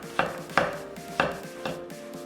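Large shiitake mushrooms sliced about 0.3 cm thick with a knife on a board, four or five crisp, evenly spaced chops up close, alone without talk.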